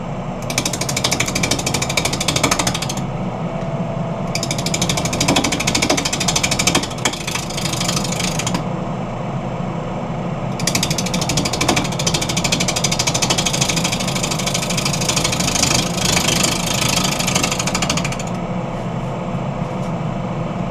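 Wood lathe turning a holly bowl blank with a 3/4 inch bowl gouge, loud continuous rumbling cut with bursts of harsh scraping that start and stop several times.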